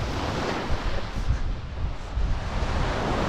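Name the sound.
ocean waves on a beach in the Bahamas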